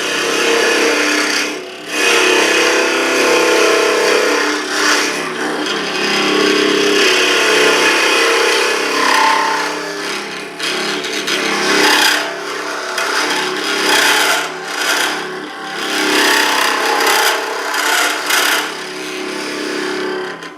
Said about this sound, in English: Now that vibration noise, because this tool is so short, I can't get a lot of downward pressure